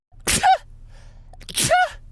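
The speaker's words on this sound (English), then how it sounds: "I had to sneeze." Two loud, sharp human sneezes about a second apart, each a sudden burst of breath, close to the microphone against a quiet background with a faint low hum.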